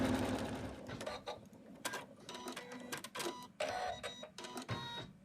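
Embroidery machine stitching star-patterned hat fabric onto an in-the-hoop snowman stocking, a busy mechanical whirring chatter running in bursts with brief pauses and changes of pace, fairly close and moderately loud.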